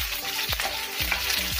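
Onions sizzle in hot oil with cumin and asafoetida over a lowered flame, a loud, continuous frying hiss broken by a few quick stirring scrapes.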